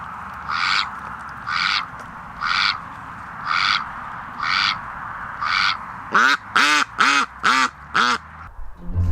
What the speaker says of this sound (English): they're the ducks